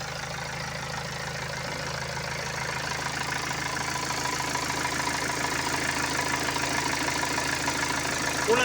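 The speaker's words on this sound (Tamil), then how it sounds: "இப்போ நம்ம இந்த வண்டி வந்து ஸ்டார்ட் பண்ணிட்டோம்." A BMW 320d diesel engine idles steadily with a constant low rumble and faint rapid clatter, close and unbroken throughout, with no speech.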